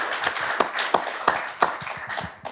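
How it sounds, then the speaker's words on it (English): A small live-show audience in Las Vegas claps for an introduced guest, with scattered, uneven hand claps, fairly close and moderately loud. "Round of applause"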